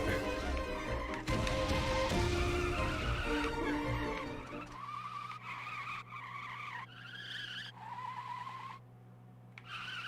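A Belgian car in the video game Valiant Hearts driving and skidding, with a loud rough burst of engine and tire noise that gives way to a quieter steady hum broken by short chirping game sounds.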